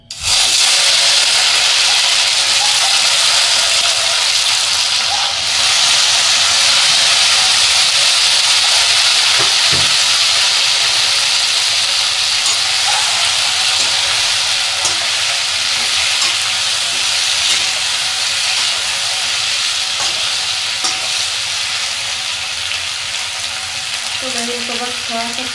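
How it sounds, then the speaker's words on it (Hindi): Onions and tomatoes fry in mustard oil in a kadai, giving a loud, steady sizzle that holds for the whole stretch with faint stirring scrapes and no talk. "थोड़ा सा सॉफ्ट होने तक भून लेती हूँ। प्याज टमाटर को मैंने भून लिया है"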